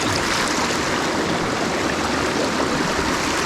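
A Pennsylvania mountain brook-trout stream with cold water, rushing steadily and close with a continuous broadband wash and no voices.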